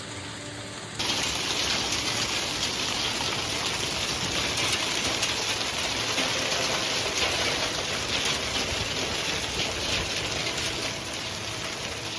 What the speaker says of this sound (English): Hail pounds residential areas in Massachusetts as thunderstorm warnings are issued